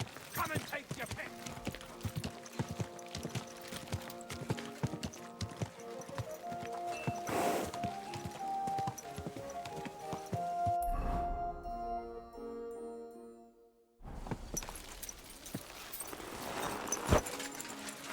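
Horse hooves clip-clop steadily in Kingdom Come: Deliverance II, close and rhythmic amid a medieval town soundscape, with a whinny and spoken game dialogue; the hoofbeats pause briefly near the end before resuming.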